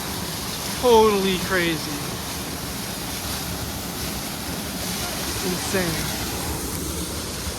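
Floodwater pours steadily out of a clogged five-foot culvert, a broad, continuous roar of rushing water close by, with excited voices talking over it.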